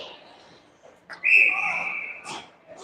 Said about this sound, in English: We'll get a whistle and a line change here at 5:35 here in the first period.